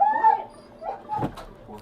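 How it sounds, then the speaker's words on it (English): Dogs bark and whimper from downstairs in a house, short yelps and yips heard at moderate distance with people talking over them. "Those dogs are screaming blatantly."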